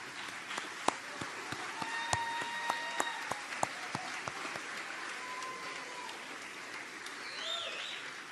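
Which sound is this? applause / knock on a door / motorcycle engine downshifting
applause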